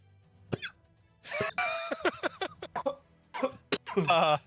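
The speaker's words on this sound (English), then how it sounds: "That's me coughing." A person coughs several times in quick, raspy bursts, one sharp cough followed by a run of rough hacking and throat-clearing, close and fairly quiet.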